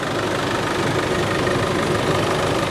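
A 2015 Isuzu MU-X with a 2.5 engine and automatic transmission idles in a steady, even rumble heard close up, with no voices.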